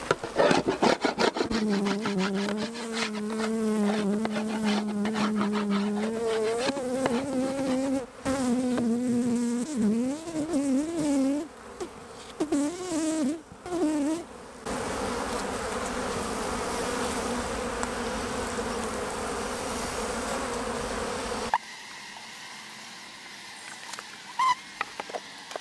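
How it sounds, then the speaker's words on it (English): A dense, steady buzz of many honeybees inside a beehive, close up, with some rubbing and wooden knocks and a quieter stretch at the end. "Lots of bees here."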